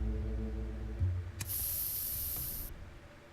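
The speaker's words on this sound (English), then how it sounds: "we're gonna use the spray" A spray can fires in This Is The Police 2, a sudden bright hiss that holds steady for about a second over a low in-game hum before cutting off.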